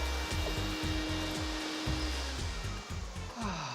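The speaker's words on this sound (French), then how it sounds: "tu passes très bien l'aspirateur" A vacuum cleaner running during work on a poured decorative concrete floor, a loud steady motor whine with a repeating low pulsing pattern as it is pushed back and forth, with no talking.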